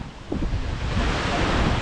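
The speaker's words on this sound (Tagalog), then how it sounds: "Ang dagat to." Sea waves wash near a boat-building site on the coast, a continuous broad rushing surf mixed with wind buffeting the microphone, with faint voices underneath.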